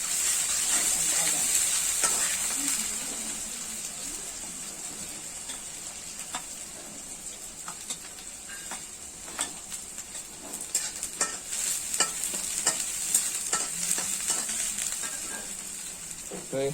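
Chilies, pumpkin and other vegetables frying in a pan for a Marathi-style chili dish, giving a steady sizzle with scattered clicks and stirring scrapes close by, a little louder near the start and end, with no talk.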